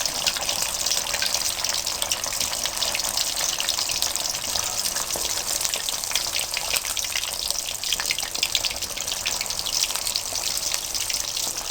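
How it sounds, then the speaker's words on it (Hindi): Marinated fish frying in hot oil makes a steady, dense sizzle with fine crackling, constant and fairly loud throughout with no voices. "आप देख सकती हैं मछली अच्छी तरह से फ्राई हो गई है।"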